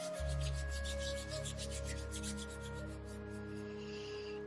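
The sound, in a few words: hands rubbing together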